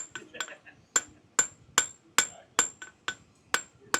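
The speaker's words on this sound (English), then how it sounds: "I'm going to use that anvil and see if it makes it any better." A hammer strikes steel on an anvil about nine or ten times in a steady rhythm, each blow ringing sharply and close, while steel calla lily parts are forged.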